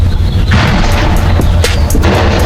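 A single loud rifle shot from an Aero M5 .308 AR10 fitted with a Sig Tango-MSR LPVO, fired outdoors at a 200-yard target, a heavy booming report with a rolling echo.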